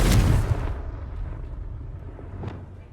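Confringo blasting spell exploding in Hogwarts Legacy: a loud, deep booming burst at the start that rumbles and decays over a few seconds, with a smaller crack near the end.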